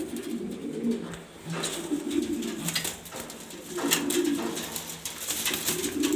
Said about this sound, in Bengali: এটা হলো 20 সালের ইম্পোর্টেন্ট নর কবুতর।